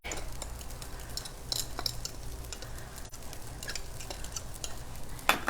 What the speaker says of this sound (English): And we'll just stir that around a little bit.